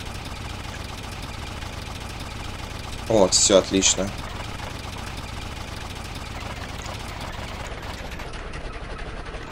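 A car engine idles in the STALKER mod Vremya Peremen, a steady low rumble throughout, briefly overlaid by a short burst of speech partway through.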